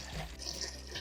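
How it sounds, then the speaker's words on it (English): Water pours steadily into a container to dilute homemade worm liquid fertilizer, a continuous close gurgling rush with no voices. "I'm going to add 2 parts of water. So I want this to go up to 3 liters."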